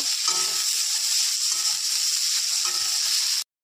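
Cashews fry in hot oil with bay leaf and chopped aromatics for Bengali egg fried rice: a loud, continuous close sizzle, broken by a few periodic stirring scrapes, before stopping abruptly.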